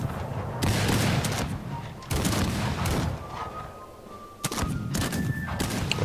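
Dense musket volleys crackle and thump in the Rise of Liberty battle game, a 500 versus 500 redcoat fight, with repeated bursts of massed gunfire and booms layered over battlefield noise and a player's voice.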